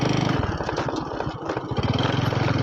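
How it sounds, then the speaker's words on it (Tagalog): An old, veteran motorcycle engine chugs loudly with a steady, pulsing throb while riding a rough, potholed road in Libmanan, Camarines Sur. The revs shift slightly partway through. "Itong motor natin mga kaidol ay veterano na sa mga ganitong daan."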